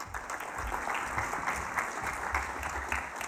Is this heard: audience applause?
yes